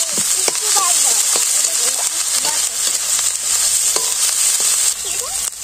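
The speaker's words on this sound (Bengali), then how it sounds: "পেঁয়াজ বাটা রসুন বাটা একটু আদা বাটা দিয়ে দিলাম" Onion, garlic and ginger paste frying in hot oil while being stirred for a rohu fish korma, a steady close sizzle with scraping spoon strokes throughout.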